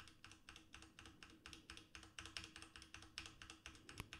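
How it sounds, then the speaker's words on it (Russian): Steady rhythmic clacking of keys on a mechanical keyboard, picked up by a Behringer XM8500 dynamic microphone, quick and fairly close, with no voices. "Вот так вот ее слышно. Это механическая клавиатура"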